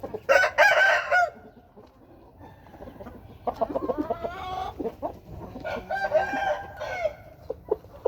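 Rooster and hen chickens crowing and clucking, with a loud crow at the start and another later, and scattered clucks and calls in between.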